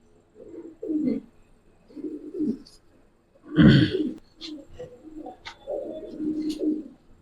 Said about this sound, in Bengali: এটা নর কবুতরটা